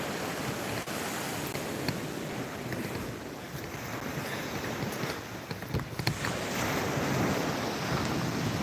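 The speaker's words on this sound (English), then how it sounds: "I'll turn you guys around so you guys can see the ocean while you wait." Ocean waves wash steadily onto a beach while wind buffets the microphone, a constant broad roar at even loudness with occasional gusty thumps and no talking.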